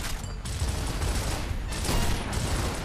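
Loud, dense bursts of video game gunfire in Gears of War Ultimate Edition, with sharp sniper-rifle shots cracking over a constant noisy din of battle effects.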